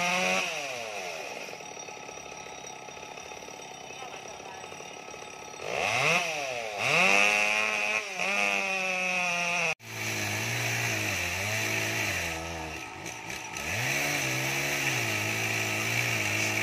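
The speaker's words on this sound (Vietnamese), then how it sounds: "Đó giờ anh cắt tiếp cái cây đó nữa gì đây các bạn ơi." A chainsaw idles, then revs up loudly and bites into a large melaleuca tree in repeated surges, its whine rising and falling as it cuts.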